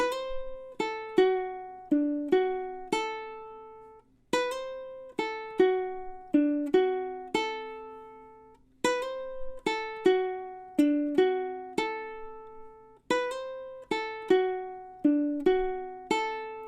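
A plucked ukulele plays a repeating blues lick with a bouncy swing rhythm, bright single notes ringing out in phrases that cycle several times.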